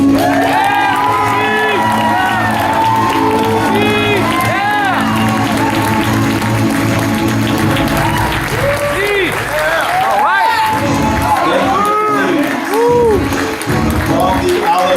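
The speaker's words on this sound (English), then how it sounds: "Please, a round of applause for young Edward C." Audience at a karate black belt demonstration applauding and cheering a new black belt, loud and sustained throughout, with whoops and children shouting over steady clapping.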